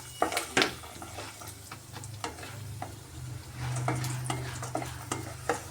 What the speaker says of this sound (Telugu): కొద్దిగా కరివేపాకు వేసి బాగా ఫ్రై చేసుకుందాము